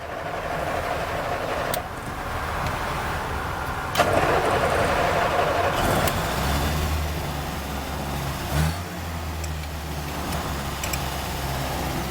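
A 1974 Land Rover 88-inch soft top with its engine running, a steady low idle rumble that shifts pitch midway, with a few sharp clicks and knocks on top, no talk.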